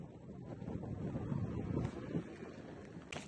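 Steady wind buffeting the microphone outdoors on a farm where calves are kept, a continuous low rumbling roar with gusts, no voices.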